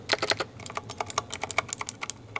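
Rapid clicky keystrokes on a Razer BlackWidow V3 TKL mechanical keyboard, about fifteen sharp, close taps in an uneven typing rhythm with no voices.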